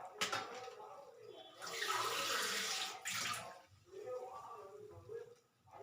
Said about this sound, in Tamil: இப்போ இதில் நம்ம இந்த அளவில் அதுக்கு 3 கிளாஸ் தண்ணி ஊற்றணும்.